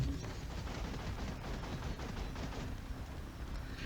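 Video game gunfire as a dense, continuous barrage of rapid overlapping shots and bursts, sustained without pause at a fairly even, moderate level.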